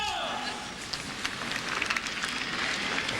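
Light rain falls on a clay tennis court at the French Open in Paris, a soft broadband hiss speckled with scattered crackling drops, steady throughout and heard without voices.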